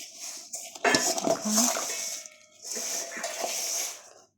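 Flattened rice (chira) is mixed into cooked, reddened jaggery for chira moa, heard as close metallic scraping and clinking of a spoon against a pot in uneven bursts with brief pauses.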